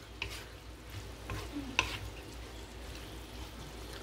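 Potatoes and beans frying in a pan, a steady soft sizzle throughout with a few scraping stirs and clinks of a spoon near the middle, close and fairly quiet.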